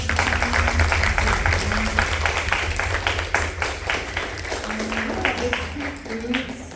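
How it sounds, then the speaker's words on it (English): Steady applause from an audience at the close of a panel discussion, dense clapping that continues throughout with a few voices murmuring underneath. "round of applause to all"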